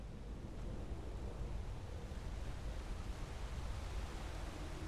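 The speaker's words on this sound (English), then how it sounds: "We just went through a waterfall." A waterfall in Skyrim pours with a steady, dense broadband rush, constant and enveloping with no breaks or voices.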